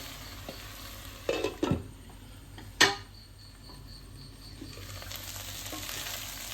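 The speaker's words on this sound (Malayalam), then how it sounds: "ഇടയ്ക്ക് ഇളക്കി കൊടുക്കുക. വെണ്ടക്കായൊക്കെ നല്ല സോഫ്റ്റ് ആവണ വരെ ഇട്ട് വേവിക്കുക." Okra (ladies finger) fries quietly in a pan, a soft, steady sizzle broken by a few sharp scraping stirs.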